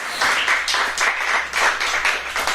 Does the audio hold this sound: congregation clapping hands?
yes